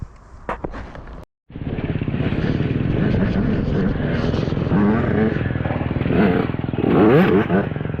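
A GasGas EC 300 two-stroke enduro motorcycle rides off, its engine rising into a loud, steady buzzing roar with rising and falling revs, close by, after a brief thump and a moment of quiet.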